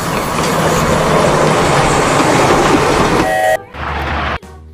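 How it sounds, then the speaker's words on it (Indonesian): Toy Thomas train running around its track, a close, loud rattling rumble with clickety wheel noise that rolls on steadily and then stops abruptly, followed by brief softer mechanical sounds. "lihat ada kereta api lagi berputar"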